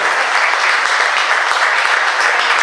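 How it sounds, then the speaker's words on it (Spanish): A crowd at a car presentation event applauds loudly and steadily, dense clapping filling the whole stretch with no talk over it. "Fuerte el aplauso para Alberto Ferreira."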